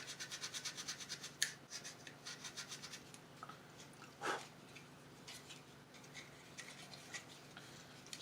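Sandpaper lightly scuffs a blank area on the plastic wing of a 1990 Blue Squadron X-Wing model kit. It makes faint, quick rasping strokes, first in a steady rhythm, then in scattered soft scrapes.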